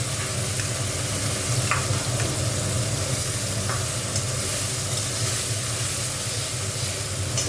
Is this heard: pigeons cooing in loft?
no